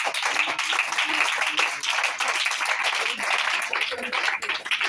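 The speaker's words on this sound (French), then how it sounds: "Acclamons très fort." A church congregation applauds loudly and steadily, a dense wash of many hands clapping that holds for the whole stretch, with voices mixed in.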